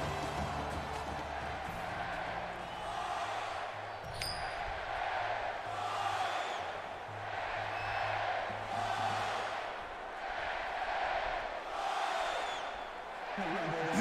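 A stadium crowd in EA Sports NCAA Football 14 at Texas in Austin swells and fades in rolling waves of roar and cheering, moderately loud, with a commentator talking over it.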